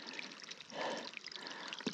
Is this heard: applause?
no